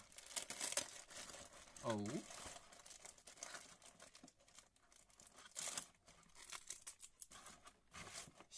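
A seasoning packet of black goji berries is opened by hand with close, crinkly plastic rustling and short tearing bursts, a talking voice joining in partway through.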